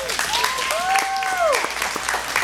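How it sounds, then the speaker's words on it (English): Applause from an audience at a poetry and arts show, dense steady clapping with a voice calling out over it. "So give him a round of applause"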